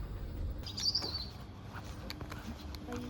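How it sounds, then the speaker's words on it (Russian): Birds chirp and tweet in the morning in Lisbon, with a brief brighter call early on and faint scattered notes afterward, all over steady low background rumble. "Птички поют утренние."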